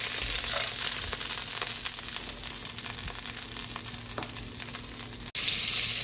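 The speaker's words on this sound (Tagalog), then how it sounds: "Pasarang na po natin yung ating butter garlic shrimp." Butter garlic shrimp sizzles loudly in a hot pan, a dense continuous crackle with scattered pops and spits, close up and steady, broken by one brief sharp click near the end.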